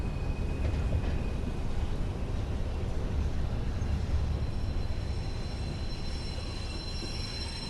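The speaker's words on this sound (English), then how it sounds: "As we are just the locomotive, we'll be using the locomotive brake to stop" Class 86 electric locomotive running light and slowing under its locomotive brake, a steady rumbling roll of wheels on rail with faint high squealing tones creeping in toward the end.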